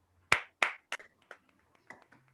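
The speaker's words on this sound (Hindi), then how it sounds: "मैं चाहूंगा सर के लिए एक बार फिर से जोरदार तालियां होनी चाहिए।" A small audience at a leaders' meeting claps, starting with a few loud sharp claps and then thinning into scattered, fading claps.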